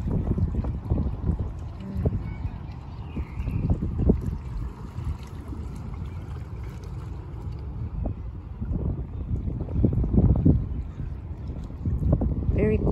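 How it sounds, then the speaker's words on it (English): Water at Paradise Point in San Diego, a steady low wash and lapping with wind buffeting the microphone, continuous and fairly close, with brief voices now and then. "It's nice to listen on the sound of the water."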